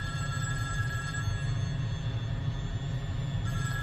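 A telephone rings steadily and continuously, a bright electronic tone held over a low, constant rumble.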